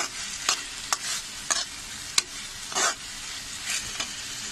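Broccoli is stirred into a soft tomato masala in a pan, a quiet sizzle punctuated by several sharp scraping strokes spaced about half a second apart, with no talk.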